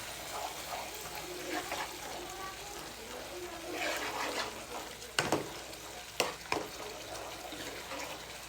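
Spice paste of turmeric and cumin powder fries for a chicken curry, a soft uneven sizzle and stirring with scraping sounds and a few sharp knocks of a utensil on the pan, while a person speaks quietly underneath.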